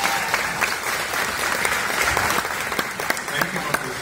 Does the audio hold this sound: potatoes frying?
no